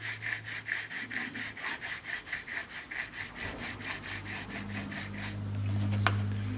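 A knife heel is drawn repeatedly across a 0.5 micron carbide abrasive for polishing, giving a rhythmic rasping scrape of about twenty even strokes, close and clear before tapering off into a low hum.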